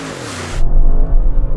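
An Audi being pushed into a drift, its engine roaring loud and close as the tyres strain and scrub, a sustained rumbling surge lasting about a second with no one speaking.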